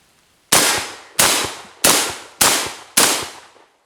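An Alpha Arms SPX shotgun fires five high brass shells in an even sequence about two-thirds of a second apart; each shot is a loud, sharp blast with a quick decay.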